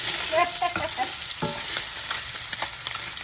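Turkey sausage fries in a pan with a dense, steady sizzle, while a few quick scraping stirs and clicks sound up close at the start; nobody speaks.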